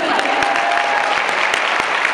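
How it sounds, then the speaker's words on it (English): At a fan convention panel, the crowd breaks into brisk, steady clapping, a short dense burst of applause with a few sharper claps standing out. "Everybody clap for her."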